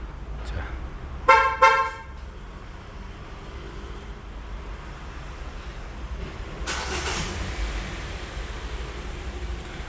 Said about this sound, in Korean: 원격 시동은 잠긴 버튼 3초간 길게 누르고 계시면 됩니다.